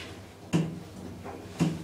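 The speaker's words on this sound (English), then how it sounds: "Doors closing. Door works." Elevator doors at Belfast Central Station sliding shut, two distinct soft thuds about a second apart over a quiet background hum.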